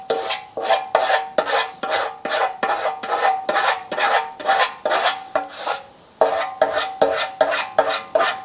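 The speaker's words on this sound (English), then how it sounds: "I just use a cheese grater to take off any of the really high spots." A cheese grater rasps across half-cured body filler on the gas tank of a 1973 TC125 motorcycle, giving a steady run of about sixteen close, loud scraping strokes in an even back-and-forth rhythm.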